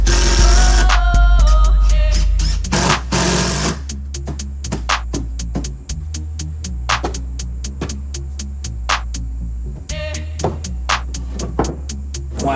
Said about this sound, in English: All right, let's add the screws.